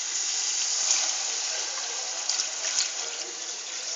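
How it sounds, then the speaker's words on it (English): Water is poured steadily into a Punjabi kadhi mixture of about four liters, a continuous close splashing gush with slight surges and no voices. "we have added more water to the mixture"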